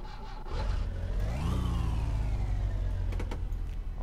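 In the My Summer Car video game, a car engine cranks and catches, then revs upward in a rising whine before settling into a loud steady run, close by with no talking.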